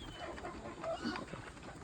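Country chickens clucking on a farm among many other hens, short soft clucks and calls at close to middle distance over a steady outdoor background, with no talking.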